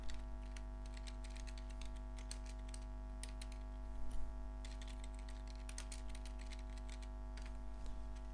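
Quiet, close typing on a computer keyboard: a few quick runs of light key clicks with brief pauses between them, over a steady low electrical hum. There is no speech.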